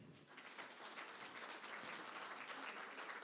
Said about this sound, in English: Give yourself and the others a round of applause